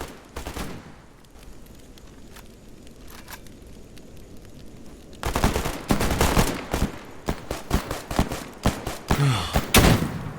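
Zombies firing guns in S.T.A.L.K.E.R. GAMMA: a quiet stretch with a few isolated shots, then dense, loud bursts of rapid gunfire crackling close by for the last half.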